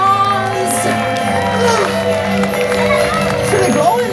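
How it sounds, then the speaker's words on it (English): An audience at a Legoland California holiday comedy show cheers, whoops and shouts in a lively, sustained wash of crowd noise, with children's voices rising above the din throughout. "Give yourselves a big round of applause!"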